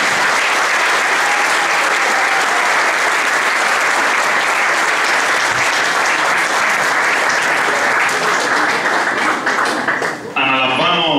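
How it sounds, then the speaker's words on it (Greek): Warm audience applause at a Byzantine and traditional music school's opening ceremony, sustained dense clapping filling the hall steadily and thinning out near the end. "Ένα θερμό χειροκρότημα."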